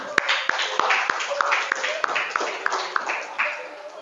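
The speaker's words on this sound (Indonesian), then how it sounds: "Tepuk tangan untuk kita semua" Classroom clapping from a small group of students, a loose rhythmic patter with sharp individual claps standing out and voices chattering underneath.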